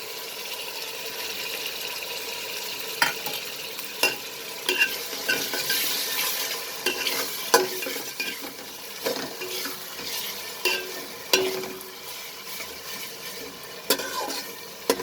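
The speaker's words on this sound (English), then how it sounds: "I will cook this for another 2 minutes so that the tomatoes get slightly cooked" Chopped tomatoes fry in a pan for a moong dal khichdi as a spoon stirs them, giving a continuous sizzle broken by repeated scraping and clinking strokes against the pan, with no one talking.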